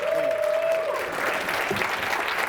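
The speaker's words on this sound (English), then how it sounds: "Give them a round of applause." A seminar audience gives a round of applause, a dense, even wash of clapping at moderate volume, with a brief voice tone at the start.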